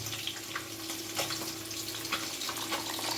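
A small splash of water is poured and stirred into coriander and chili powder for a rohu fish curry, a faint trickle and mixing sounds over low kitchen hum.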